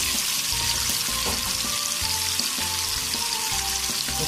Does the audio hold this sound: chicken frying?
yes